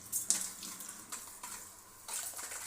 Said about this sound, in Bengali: এখন চাল ধুয়ে নিব।